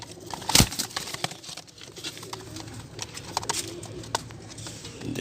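Breeding pigeons of various kinds cooing at a Sunday bird market in Multan, with soft coos mixed into busy rustling and crinkling market noise and a sharp crackle near the start.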